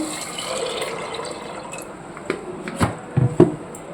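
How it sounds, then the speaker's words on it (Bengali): Water is poured over kabuli chickpeas in a bowl, a soft trickling wash followed by a few close splashy pours and drips near the end, with no talk. "এই যে কাবলি ছোলা নিয়ে নিয়েছি আর এর মধ্যে দিয়ে দেবো জল"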